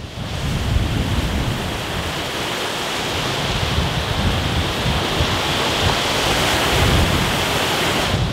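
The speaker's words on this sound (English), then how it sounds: "That's an angry river." A fast, swollen river rushes loudly and steadily across open boggy ground on a military training area, a dense, continuous roar of churning water with some wind noise and no talking.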